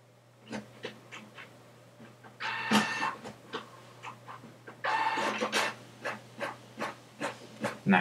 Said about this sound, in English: that's now printing via Ethernet